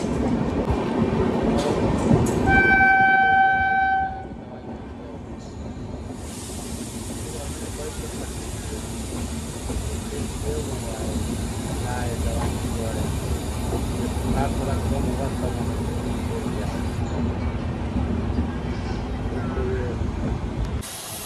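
Passenger train rolling along the new Ghazipur City–Tarighat line, a steady, loud rumble of wheels and carriage noise throughout, with a brief whistle-like tone early on and voices talking over it.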